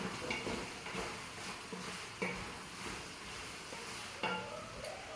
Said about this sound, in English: which I'm going to stir real quick